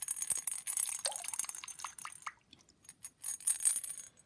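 Ceramic pots with rattles inside, set in water, give a bright mix of watery splashes, drips and glassy clinks, active at first, thinning to a few isolated drips, then picking up again.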